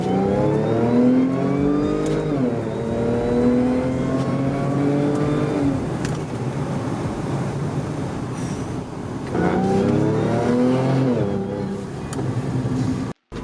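A tuned Audi A7 with an upgraded pulley accelerates hard, its engine note climbing steadily through the gears with rising harmonic sweeps and brief shift dips, loud and close throughout.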